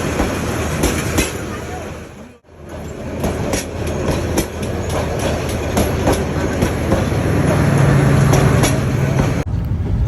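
The Kalni Express passenger train on the Dhaka–Sylhet route rumbling along the tracks, loud and close, with rhythmic clickety-clack of wheels over rail joints and a brief dip midway.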